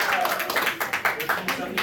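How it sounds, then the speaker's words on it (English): Audience applause at an anime convention game show, a brief burst of clapping from a crowd in a hall, fading in and out over a couple of seconds with chatter mixed in. "give Madison a round of applause"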